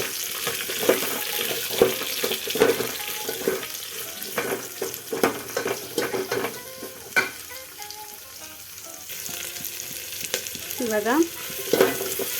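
Chopped onions fry in a pan for dhal, a steady crackling sizzle broken by frequent stirring scrapes and clinks, with a short spoken word near the start.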